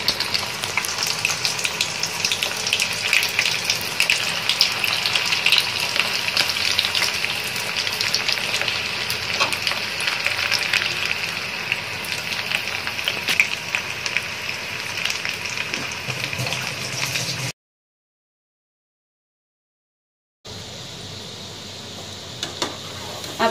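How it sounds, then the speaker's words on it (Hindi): Undhiyu vegetables fry in hot oil over a slow flame for Surti Undhiyu, giving a steady, close crackling sizzle that runs unbroken, drops out briefly near the end, then returns. "अब हम उसको फ्राई करेंगे गरम तेल में।"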